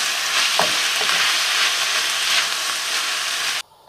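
Curry powder, mushrooms and lemongrass frying in a hot pan, a loud, even, close sizzle with a few light stirring knocks early on, ending abruptly into near silence.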